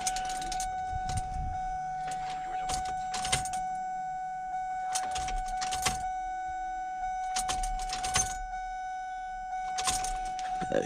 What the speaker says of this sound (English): Now we're going to cycle the keys a couple of times.